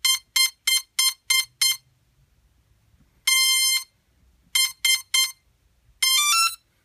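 A Cheerson CX-20 quadcopter powering up emits a sequence of loud, clear electronic beeps: six quick even tones, a long tone, three short ones, then a final long warbling tone, with no speech.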